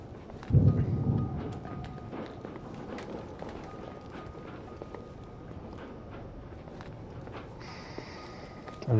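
Low rumble of thunder in the snowy setting of the game The Suicide of Rachel Foster, a strong roll near the start fading into a steady quieter background, with no speech.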